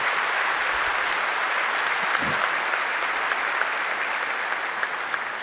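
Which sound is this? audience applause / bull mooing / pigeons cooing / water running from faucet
audience applause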